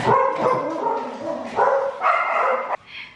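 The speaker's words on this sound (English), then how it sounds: "my dog is barking because he sees a squirrel outside" A dog barks repeatedly at a squirrel outside, loud and close in a run of sharp woofs over about three seconds.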